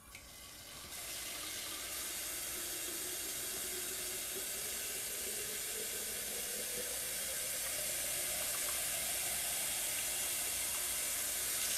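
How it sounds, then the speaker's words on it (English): Tap water runs steadily from a faucet into a bottle, a continuous close splashing rush that starts abruptly and keeps flowing alone for the whole stretch. "So first put the bottle under the faucet and then turn it on and fill it."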